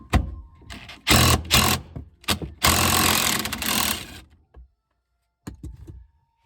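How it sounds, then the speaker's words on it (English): A cordless battery impact driver with a 13mm socket breaks a bolt free on a 2011-2019 Ford Explorer third-row seat. Loud, close bursts of rattling hammering come in several short pulses with gaps between them, then stop, followed by a few faint clicks. "Switch over to my electronic battery operated impact."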